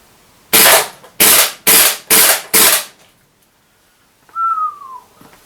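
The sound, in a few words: KWA KZ61 gas blowback airsoft SMG firing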